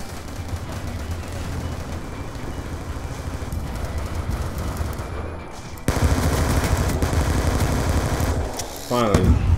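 Dense, sustained machine-gun fire in a Call of Duty Black Ops 2 multiplayer match, a continuous loud rattle that swells partway through and ends with a rising electronic tone.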